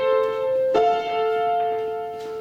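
Piano playing two voices in oblique motion, one held while the upper voice moves to a new pitch partway through, the notes sustaining softly and clearly with no speech.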